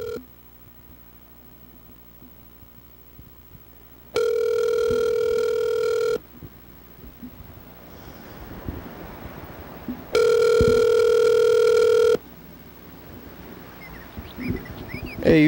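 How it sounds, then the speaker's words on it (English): Ringback tone on an outgoing telephone call: two steady, loud electronic rings a few seconds apart, each about two seconds long, with faint line hiss in the pauses. "Let's call Freddie, the producer"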